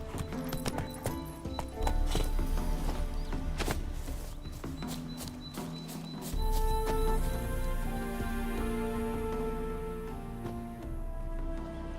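Roach, a horse in The Witcher 3, clip-clops along with steady rhythmic hoofbeats, close and clear, with a brief whinny and game ambience underneath.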